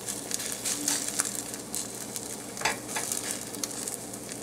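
An oatcake fries in melted coconut oil in a warm pan, giving a quiet, steady sizzle with faint crackles and pops throughout.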